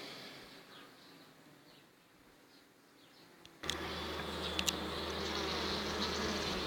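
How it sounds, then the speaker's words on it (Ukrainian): Buckfast honey bees buzz in a dense, continuous drone, quiet at first and then much louder and closer as the hum fills in steadily. "Дуже миролюбні, спокійні бджоли."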